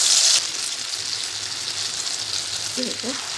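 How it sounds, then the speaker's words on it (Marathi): Mini potato vadas for a fasting thali fry in hot oil, giving a steady, soft sizzle with a brief louder burst at the start and a faint voice under it. "तर तेल तापले त्यावरती सोडून घ्यायचं."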